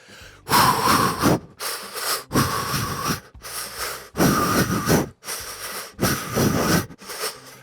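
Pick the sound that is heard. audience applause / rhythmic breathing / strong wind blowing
rhythmic breathing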